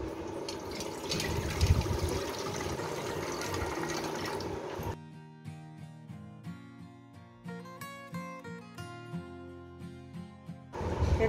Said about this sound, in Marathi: आता आपण 1 किलो शाबूस तांदूळ घेतले तर ते 2 पाण्याने धुवून घ्यायचे स्वच्छ